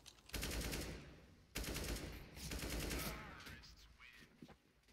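Bursts of AK-47 automatic rifle fire in Counter-Strike: Global Offensive, two loud sustained volleys of rapid shots with a brief gap between, fading into quieter game noise toward the end.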